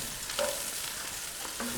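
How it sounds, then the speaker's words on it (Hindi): Garlic paste being fried in a pan with onions for qeema matar, giving a steady soft sizzle with a few light stirring scrapes, close and alone. "लहसुन के पेस्ट को हमने भून लेना है ताकि इसकी खुशबू आने लगे।"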